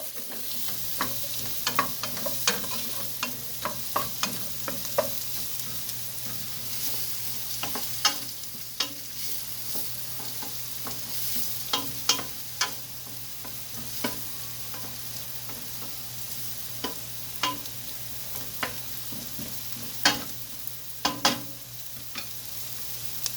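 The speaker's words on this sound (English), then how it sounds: "just like that, I have my garlic and my onions inside" Chopped onions and garlic fry in a pan as the base for a three-bean chili, a steady sizzle broken by repeated sharp clicks and scrapes of stirring, close and clear with no talk.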